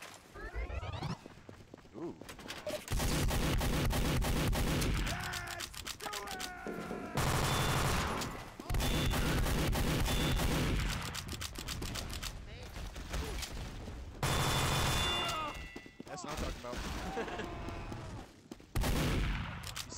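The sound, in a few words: gunfire in the video game Team Fortress 2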